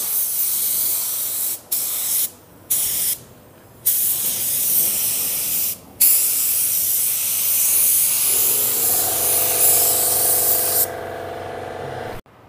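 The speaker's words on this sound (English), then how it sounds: "Let's go ahead and spray a first coat on this bumper." Steady hiss of a spray gun laying paint on a car bumper, in several short bursts with brief gaps, then one long continuous pass.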